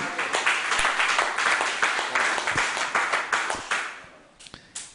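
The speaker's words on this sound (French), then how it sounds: "Alléluia, applaudissons Jésus." A church congregation claps in unison, a steady rhythmic burst of many hands at close range that fades and thins out near the end, with no voices over it.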